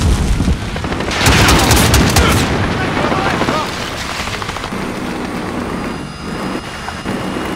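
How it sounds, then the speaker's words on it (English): Heavy booming blasts and rumbling impacts from cruise missile strikes in a combat video game, loud and dense for the first few seconds, then trailing into a lower continuous rumble of gunfire and explosions. "Allied cruise missile launched."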